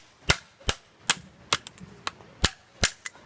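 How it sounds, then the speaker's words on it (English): A Weatherford knife being batoned through kindling wood at a cabin, giving a series of about eight sharp, loud wooden cracks and knocks spaced roughly every half second, close up with quiet gaps between strikes. "You can just baton it all the way down and split it."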